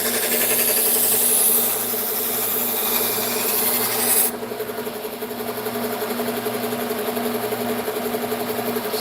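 Steady abrasive rasp of a knife blade stroked across a sharpening stone, loud and continuous throughout, with a brighter hiss in the first half that drops to a duller scrape partway through, over a low constant hum.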